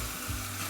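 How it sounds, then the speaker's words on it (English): Meat pieces sizzle in butter in a pan for an Anglo-Indian brown stew, a soft continuous frying hiss, brief and close, with no talking. "Keep frying for some time."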